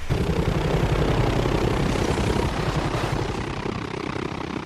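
A helicopter in a military film combat scene thrums loudly and steadily close by, its rotor chop and engine roar continuous throughout with no voices.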